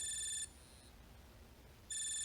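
Alarm tone from a Garmin Forerunner 55 sports watch, faint high-pitched electronic beeping in two short bursts separated by a brief pause.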